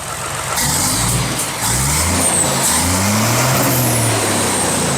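Isuzu FXZ240 truck, a Rocky model rebuilt throughout, with its diesel engine revved under throttle close by, rising and falling in pitch over a steady low rumble, with a brief air hiss near the start.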